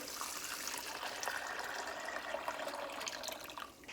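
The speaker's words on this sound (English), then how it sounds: "So to this, I'm just gonna add a bunch of water." A steady stream of water pours and splashes into a pot continuously for several seconds, close by, with no voices.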